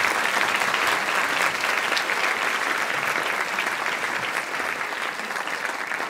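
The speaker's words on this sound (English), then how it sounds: "Let's give him a round of applause." Sustained, even applause from a crowd at a school band banquet rises in honour of a speaker, a thick wash of many hands clapping that stays loud for the full stretch, slightly easing near the end.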